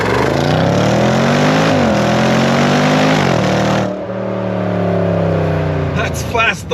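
A 575 hp Range Rover Sport SVR launches from standstill, its engine roaring loudly up through the revs with quick dips at two gear changes before settling into a steady high drone.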